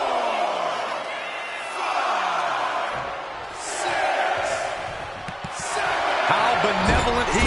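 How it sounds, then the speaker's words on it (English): Arena crowd cheering in the WWE 2K25 wrestling game at a Great American Bash event, a roaring mass of voices that swells and dips in waves, with a commentator talking over it. "Jacob Fatu feeding off the crowd"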